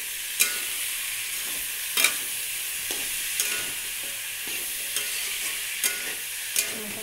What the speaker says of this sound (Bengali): মোচার তরকারি চাপালাম,